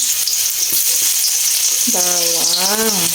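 Garlic hits hot cooking oil in a pan, a loud continuous sizzle and hiss close up, with a brief tonal squeak partway through.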